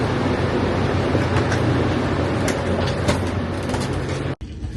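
Rail noise of a train at a station platform as passengers board coach 4, a steady rumbling, clattering wash that holds loud and close through the clip before briefly cutting out near the end.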